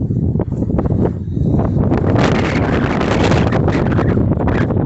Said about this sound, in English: very windy, hope you can hear me